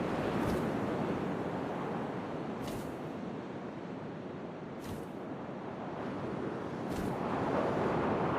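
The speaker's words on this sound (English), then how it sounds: "First, all I heard was the wind." Steady, roaring wind in What Remains of Edith Finch, a continuous broad rush with faint periodic swells and no voices.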